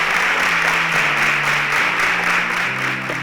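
A studio audience claps for a contestant on a Nigerian quiz competition show, a dense steady round of applause that holds at full strength with no talking over it.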